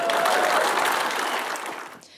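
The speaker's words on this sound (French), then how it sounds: "a été accueillie par une pluie d'applaudissements" An audience at a Pierre Poilievre speech breaks into loud, sustained applause after a promise to axe the carbon tax, a dense wash of clapping that fades over about two seconds.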